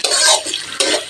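Onions fry in a pan over medium heat, giving a close, bright sizzle broken by two quick bursts of scraping as they are stirred.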